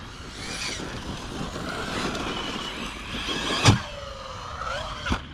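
An HNR X MARS 6s RC car, a 6S electric model, drives across a meadow, its whining motor steady and fairly close, rising in pitch near the end, with a couple of sharp knocks from bumps or landings and no talking.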